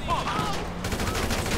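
Rapid bursts of gunfire in the GTA V game, a police shootout scene, crackle densely and close through the whole moment, with a voice briefly heard over it.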